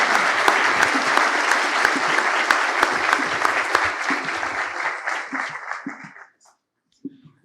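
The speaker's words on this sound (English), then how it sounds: "join me in a last warm round of applause for" A conference audience at a central bank's annual event claps in dense, sustained applause lasting about six seconds, then stops abruptly, leaving near silence broken by a single faint late clap.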